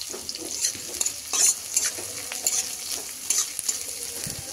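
Onion and green chili frying in a pan, a steady sizzle with repeated stirring scrapes and light utensil clicks throughout, close and continuous.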